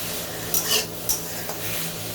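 Dhenki greens (fiddlehead fern saag) stir-fry in a pan, giving a soft steady sizzle punctuated by a few clicks and scrapes of the stirring utensil, with no talking.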